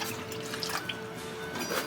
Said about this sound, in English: then add 2 cups of cold water